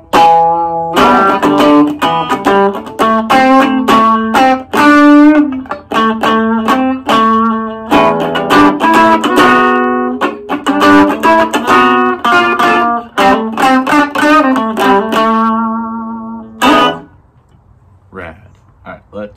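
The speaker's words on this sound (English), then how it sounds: "I'm gonna turn up the delay level, because I think that gives me some kind of like reverb." Electric guitar played through a Blackstar Fly 3 mini amp with its delay turned up, loud sustained notes and chords with echoing tails that ring out and fade at the end, no talking.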